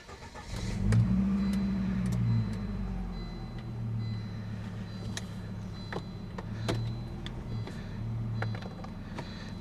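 A car that is falling apart idles and revs during a test drive, a mid-pitched engine drone rising and falling with a few small clicks and clunks as it goes into gear.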